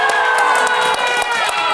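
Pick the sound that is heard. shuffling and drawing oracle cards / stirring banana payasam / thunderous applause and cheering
thunderous applause and cheering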